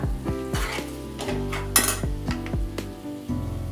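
Salt is stirred into a soybean chilli mixture in a pan with repeated spoon scrapes and clinks against the metal and a soft sizzle underneath, close and steady throughout, with a faint tonal background.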